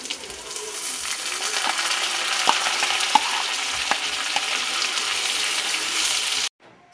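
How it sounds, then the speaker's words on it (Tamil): Carrots sautéing in butter oil in a pan, a constant close sizzle with a few sharp metallic taps from the spoon, running steadily before cutting off abruptly near the end. "கேரட்டை வதக்கிக்கொள்ளும்."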